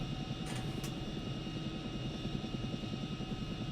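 Chinook twin-rotor helicopter spooling up as throttle is applied, a loud, steady close-up roar with fast rhythmic rotor chop and a constant engine whine, heard alone.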